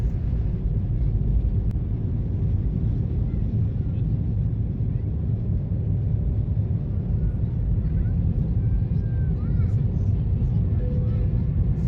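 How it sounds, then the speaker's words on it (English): Jetstar airliner taking off from Auckland on a rainy day, heard from inside the cabin as a loud, steady low engine roar that holds through the whole climb. "So let's enjoy the takeoff"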